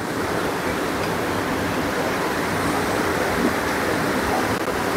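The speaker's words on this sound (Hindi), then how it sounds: "देख सकते हैं उधर काफी अधिक पानी गिर रहा है" Heavy water falls and churns where rivers meet at Rajrappa on the Damodar, heard from a boat close by as a loud, constant broadband rush with no break.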